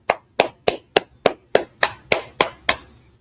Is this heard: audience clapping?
yes